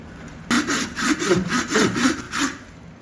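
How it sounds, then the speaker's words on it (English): A hand saw cuts through a motorcycle helmet shell in about eight rhythmic back-and-forth rasping strokes, close and fairly loud, with no talking. "So I'm cutting a saw curve through that flat spot there."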